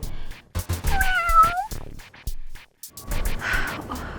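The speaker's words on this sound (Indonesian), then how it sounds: "Oh, kirain apaan, ternyata kucing." A cat lets out a short, plaintive meow close by, amid rustling and bumping indoors, followed by a breathy hiss-like exhale.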